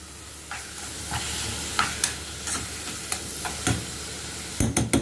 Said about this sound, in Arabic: وانزل ببصلايه كده مفرومه عليها قرن فلفل برضه حامي وقرن فلفل احمر، واسيبهم كده ياخدوا تشويحه حلوه مع بعض